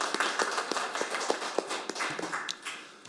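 Scattered audience applause at a seminar on delayed PTSD and veterans' policy, welcoming a naval battle veteran to the podium; a steady patter of many hands with sharp individual claps standing out, fairly close and unaccompanied by talk.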